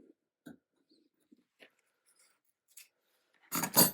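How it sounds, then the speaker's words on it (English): Faint scattered clicks and handling noises, then two loud, close crunching scissor snips as a zipper is cut. "Grab my scissors."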